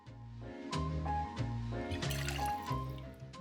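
London dry gin pours into a cocktail vessel in short glugging bursts, a close, quiet liquid gurgle with a rising fill pitch over a few seconds.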